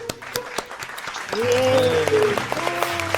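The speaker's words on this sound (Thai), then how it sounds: "ก็ปรบมือนิดนึง" Audience clapping at a Free Fire quiz game event, scattered claps swelling into a fuller round of applause mixed with cheering voices and a host talking over it.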